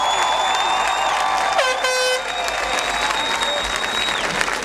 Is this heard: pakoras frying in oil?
no